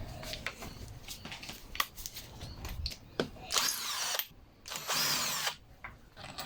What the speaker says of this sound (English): using the T20 Torx, remove the two screws that mount the carburetor